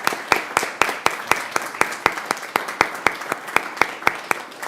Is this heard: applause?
yes